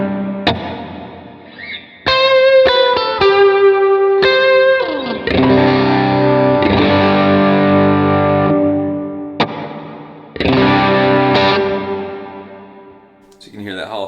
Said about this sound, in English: So you can hear that Hall of Fame just gives it a little bit extra.